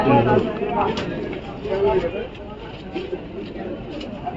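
Soft coos from semi-adult pigeons at a pigeon market murmur in the background beneath steady nearby talking and the general chatter of a crowded place.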